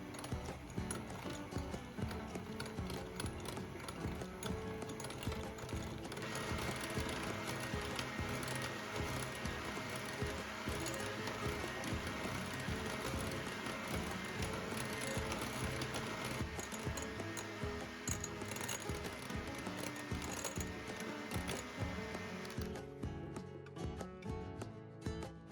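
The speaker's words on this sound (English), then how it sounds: "Now whisk everything until it's pale, smooth, and slightly stretchy." Rapid, steady whisking of an egg mixture for donut batter in a bowl, a close, continuous rattling tick that runs evenly for about twenty seconds with no voices.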